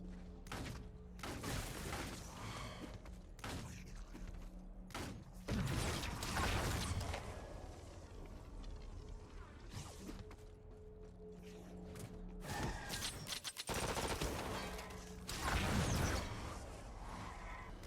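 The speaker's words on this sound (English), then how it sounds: "it's like a machine gun effect" Rapid machine-gun-like attack effect from combat in the action RPG Wolcen: Lords of Mayhem, dense repeated clattering bursts layered with thuds and game sounds, continuous and fairly loud throughout with no talk.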